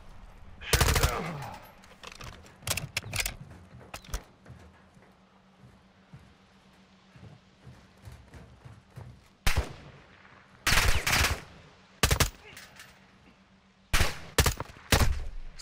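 Rapid automatic gunfire from a Call of Duty: Modern Warfare 2 battle, fired to shoot down an aircraft, comes in loud, close bursts of varying length separated by short gaps over a low rumbling backdrop.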